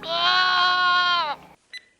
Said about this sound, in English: they also have a unicorn that bleats like a goat